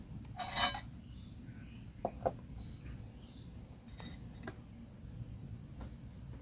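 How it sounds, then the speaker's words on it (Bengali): A metal wok (kadai) set onto a lit clay stove, giving a sharp metallic clank followed by several lighter clinks and taps, close and clear over a quiet room. "উনুনটা আমি ধরিয়ে নিয়েছি, কড়াইটা চাপিয়ে দেব।"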